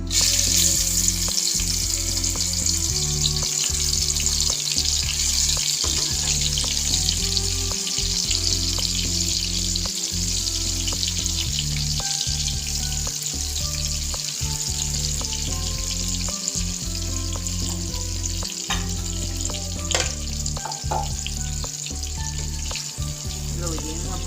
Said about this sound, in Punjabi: ਆਪਾਂ ਪਨੀਰ ਨੂੰ ਫਰਾਈ ਕਰ ਲਾਂਗੇ